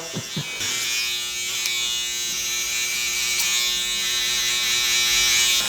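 Electric hair clippers buzz steadily and close up while cutting a taper, a continuous bright whine that runs almost the whole time after a few short handling sounds at the start.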